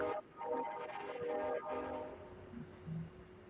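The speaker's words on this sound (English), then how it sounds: "Good old train going by." A train passes in the distance with a loud, sustained horn blast and then a fading rumble, while a low hum runs underneath.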